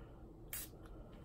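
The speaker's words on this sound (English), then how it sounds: "So I'm going to spray my brush" A single short spritz of spray onto a makeup brush, quick and faint against a quiet room.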